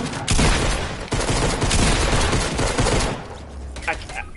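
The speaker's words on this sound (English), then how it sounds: "He's shooting at me, he's up on the hill." Enemy gunfire in a Fortnite match: dense, loud bursts of rapid shots with sharp cracks for about three seconds, tapering into scattered softer noise, with a player talking over the shooting.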